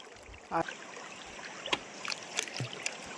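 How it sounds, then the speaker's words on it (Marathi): Floodwater rushes strongly past a small rowing boat, heard as a faint steady wash broken by a few sharp nearby knocks and splashes. "मंडळी हा बघा पाणी एकदम जोराने वाहत आहे"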